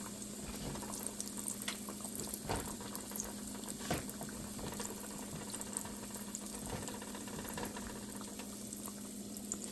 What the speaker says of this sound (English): we're going to pop it into the oil. And then we're going to fry it until it's lightly browned on both sides.